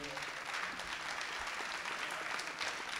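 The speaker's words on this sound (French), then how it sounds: "je vous remercie d'applaudir encore nos 4 intervenants" An audience applauds four speakers at the close of a panel discussion, giving steady, dense clapping that fills the whole stretch evenly with no voices over it.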